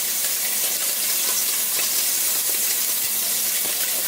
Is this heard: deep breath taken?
no